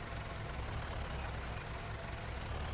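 A tractor engine idles in the farming game Farming Simulator 25, a steady low drone with a slight knocking pulse, continuous and fairly close with no talk.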